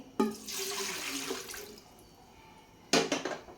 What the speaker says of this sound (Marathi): ह्यामध्ये आपल्याला पाणी टाकून घ्यायचं आहे